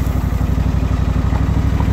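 A Simplicity Broadmoor SLT300 lawn tractor mower engine runs steadily at close range, a rapid even chugging with a mechanical clatter and no pauses.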